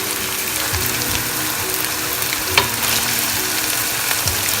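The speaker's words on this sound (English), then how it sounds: "Chicken is ready to go into the pan. We need to have our gas in a medium flame" Boneless chicken frying in a karahi pan over a medium gas flame, a steady close sizzle with occasional scraping stirs and one sharp clink of a utensil.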